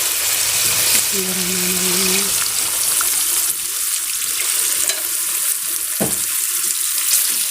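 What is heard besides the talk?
water being added to frying potato eggplant curry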